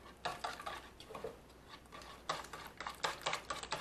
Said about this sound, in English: You gotta keep whisking, slowly, slowly putting this in,